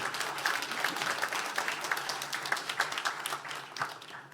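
A church congregation at a New Year's Eve worship service breaks into applause, many hands clapping densely and continuously, a bit louder in the middle and fading slightly toward the end.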